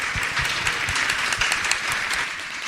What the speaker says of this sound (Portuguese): Uma salva de palmas para a nossa plateia.